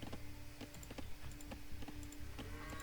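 Rapid computer keyboard typing of shortcuts with steady clicky keystrokes close by, under a continuous background hum of game audio; no voices.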